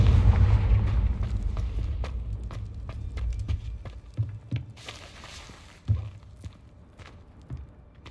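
A Confringo explosive spell from Hogwarts Legacy bursts with a heavy, rumbling boom that slowly fades, followed by scattered thuds, pops and footstep-like impacts.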